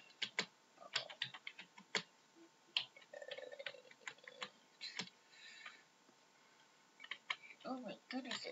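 Someone types quietly on a computer keyboard while building a Scratch 3.0 game: irregular bursts of close, crisp key clicks, with short pauses between runs of keystrokes.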